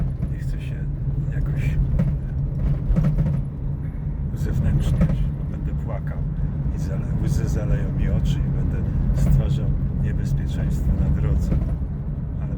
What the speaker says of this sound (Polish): ja w tej chwili prowadzę samochód